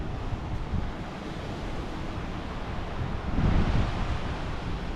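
Waves wash onto a rocky, mostly sandless beach in a bay on Tenerife: a steady broadband roar of surf with wind noise, swelling into a louder surge around the middle of the stretch, with no voices.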